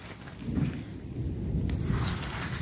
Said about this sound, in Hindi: यहाँ तो बहुत तेज हो रही है बारिश